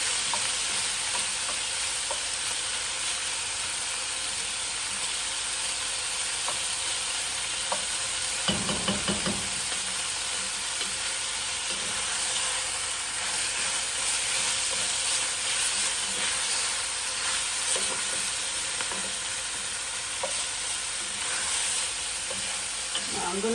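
A chunk of bison meat with bone browns in a pot for chili. The sizzle is steady and continuous, with occasional stirring and scraping and a brief louder clatter midway.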